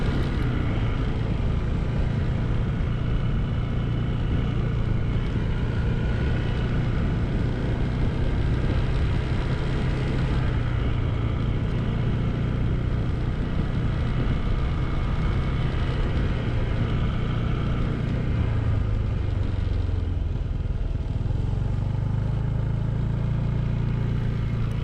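A 2026 Honda ADV 160 scooter rides steadily through a quiet part of town, its low engine drone and road rumble continuous and close for the whole stretch, with no voices.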